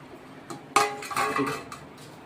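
A lid is set onto a pot of curma, giving a sharp metallic clank followed by a few lighter rattles and clinks as it settles, close and fairly quiet.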